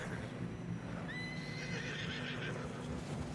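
A horse in the Red Dead Redemption 2 video game lets out a clear, rising whinny amid the steady clip-clop of hooves through fresh snow, close and moderately loud.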